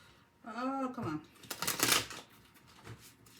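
Tarot cards being shuffled: a brief voice, then a quick riffling burst of cards, close and fairly loud, fading to a few soft taps.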